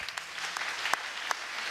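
A church congregation claps during a sermon, a dense, steady patter of many hands with a few sharper claps standing out, moderately close and without talk.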